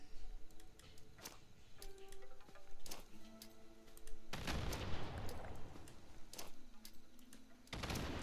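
Fallout 76 combat with the Thirst Zapper firing and grenades being thrown: sharp repeated cracks and ticks, then two loud bursts of explosive noise, with faint background game tones.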